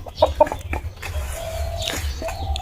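Chickens in a Sundarbans village yard cluck as they peck at scattered paddy, giving a few sharp nearby clucks followed by softer, drawn-out calls over low background rumble.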